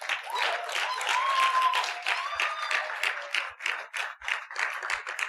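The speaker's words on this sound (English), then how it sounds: "A round of applause." An audience applauds at the Coal City Film Festival, honoring a former department colleague: dense, steady clapping for about five seconds, thinning slightly toward the end, with faint voices underneath.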